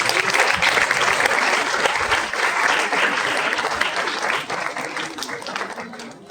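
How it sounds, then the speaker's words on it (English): Sustained applause from a large audience at an awards ceremony for exam achievers, dense and steady clapping that fills the room, easing slightly toward the end. "They all deserve a great round of applause."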